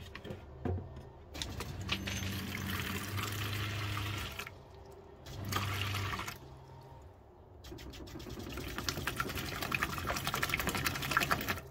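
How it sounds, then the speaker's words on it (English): Water running steadily from a tap into a bucket, with the flow cutting out briefly a couple of times before resuming, during RV water pump pressure adjustment. "I'm just collecting the water in a bucket so I don't waste it"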